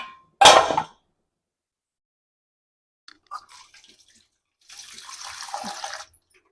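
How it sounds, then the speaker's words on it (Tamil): Cut onions and potatoes being washed in water for onion and potato bajji: a short loud splash near the start, a few faint clinks, then a longer stretch of sloshing and running water near the end. "இங்கே பாருங்க, தண்ணியில் நல்லா வாஷ் பண்ணிக்கலாம்."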